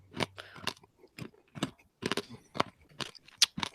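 Someone bites and chews crunchy food close up, sharp crisp crunches coming in uneven bursts with short pauses between, loud and alone with no talking.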